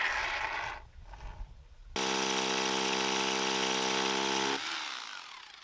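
A power drill bores bolt holes into old foundation stones beneath a barn, a steady loud whine with strong harmonic tone running for a few seconds after some shuffling handling noise.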